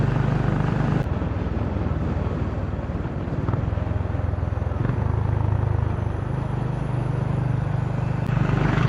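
Steady Honda CB350 engine drone during a ride out to a waterfall, a continuous low throb holding even, close and loud throughout with no talk over it.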